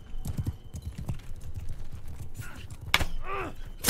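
Horse hooves clip-clop in the video game Mount & Blade 2 Bannerlord, a quick rhythmic patter of steps at low level, joined by a few sharp clicks and a brief whooshing effect near the end.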